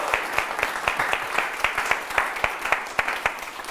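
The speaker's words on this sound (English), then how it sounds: "Clap your hands." An audience claps hands together in a live leadership presentation, a brisk, steady run of sharp individual claps, fairly close and unaccompanied by talk.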